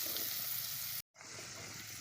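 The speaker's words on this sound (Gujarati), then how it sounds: "અને થોડી વાર આપણે તેલમાં ચડવા દેવાની છે લસણની કળીને." Garlic cloves frying in hot oil give a steady, close, bright sizzle that cuts out for a moment and then resumes at the same level.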